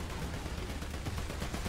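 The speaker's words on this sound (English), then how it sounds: "Gunfire! That usually means there's an enemy." Gunfire in War Thunder during a tank battle, a dense stream of rapid, fairly distant shots over a rumbling background with no talking.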